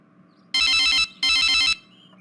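A phone ringing with an incoming call, two loud electronic trilling bursts close by, each about half a second long, separated by a short pause over quiet room tone.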